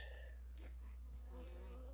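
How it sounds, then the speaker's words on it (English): A faint, steady honeybee buzz hums around beehives through a quiet background, with a few brief louder passes drifting near and away. "That is a lot of bees."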